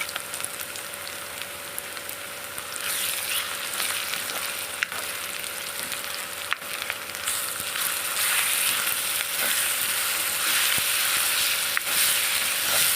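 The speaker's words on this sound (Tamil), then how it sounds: "இதோடு நாம் அரைச்சி வச்ச இஞ்சி பூண்டை சேர்த்து நல்லா வதக்கி எடுத்துக்கலாம்." Ground ginger-garlic paste sautés in a pan for vegetable kurma, a steady crackling sizzle that grows louder after a few seconds, with a few sharp clicks and no speech.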